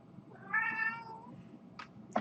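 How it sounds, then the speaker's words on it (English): A cat meows once in a drawn-out, wavering cry at close range, followed by a couple of short, sharp knocks or taps; no one speaks. "can I go through one vlog without being interrupted by a cat?"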